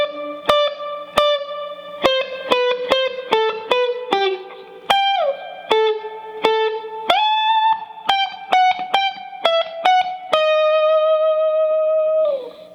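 An electric guitar with a distorted effects tone plays the Munsters theme as clear single picked notes, some bent or slid, in a bouncy phrase that ends on a long sustained note.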